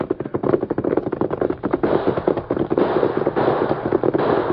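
A rapid crackling volley of gunshots pops continuously, dense and loud, like sustained gunfire at a distance.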